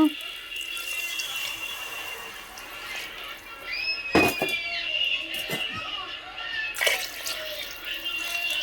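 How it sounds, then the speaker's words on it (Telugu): Water is poured into a pot of prawn and egg biryani, a steady close pour with a few sharp splashes and clinks, moderately loud with no talking. "ఇప్పుడైతే వాటర్ కూడా పోసేసుకుందాం మనం."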